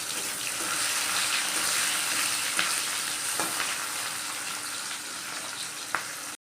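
Chopped onions fry in oil with cumin seeds for a chicken curry, giving a continuous close sizzle and hiss with a few faint clinks of stirring, no talk.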